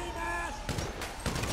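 Police gunfire in Grand Theft Auto V, several sharp shots in separate bursts after a stretch of engine and siren noise, loud and close in the game's street scene.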